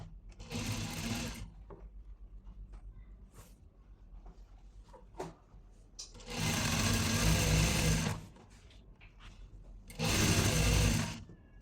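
Sewing machine stitching folded fabric, three loud close runs of steady whirring separated by pauses with small handling clicks, the longest run in the middle.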